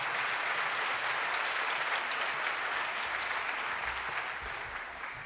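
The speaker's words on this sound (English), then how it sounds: "Please give me a big round of applause one more time." Sustained audience applause for a choir at an Armenian Genocide commemorative event, dense steady clapping that fills the hall and eases off slightly toward the end.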